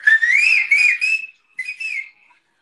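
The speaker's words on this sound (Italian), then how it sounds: "fai il tuo fischio, ci manca" A person whistles a bright, sliding melody in two close, clear phrases separated by a short pause, with no other sound around it.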